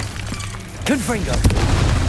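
A Confringo blasting spell goes off in Hogwarts Legacy, a single loud, deep boom with a bursting crackle, followed by rumbling game effects, while a voice shouts over it.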